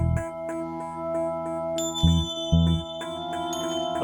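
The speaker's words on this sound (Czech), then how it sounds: "A teď, když do toho pustím i ty zvonky." Bright ringing bells with sustained tones play in a handcrafted analog music track alongside a Hammond organ and low thudding beats, notes struck repeatedly in a steady pattern with no talking.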